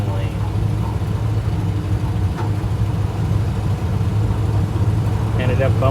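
A 1971 Ford F250 pickup named Hank, with its timing advanced to about 12 degrees and vacuum advance fitted, runs steadily while driving, giving a constant low engine drone with a voice faintly over it.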